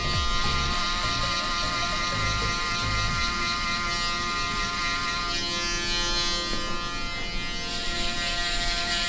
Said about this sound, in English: we're gonna come in with our Braun 9 Series shaver and bald out the bottom of the fade